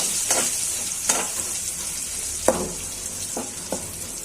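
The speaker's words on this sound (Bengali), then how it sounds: "হয়ে যাক পেঁয়াজ ভাজা।" Chopped onions with two bay leaves frying in hot oil, a steady close sizzle with a few sharper crackles and stir scrapes spread through it.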